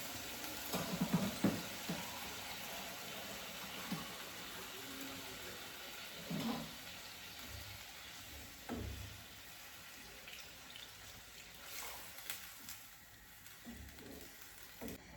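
Masala curry simmers in an open pan after water is poured in, giving a faint, steady bubbling hiss with a few soft clinks and stirring scrapes scattered through.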